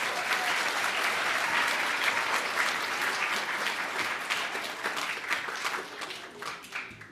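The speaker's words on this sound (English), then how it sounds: "Let's give them all one more big round of applause." Students and guests at a Kid Governor inauguration give a loud round of applause, a thick continuous clatter of many hands that gradually tapers into looser, scattered claps.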